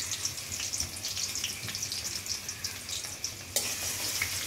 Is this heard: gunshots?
no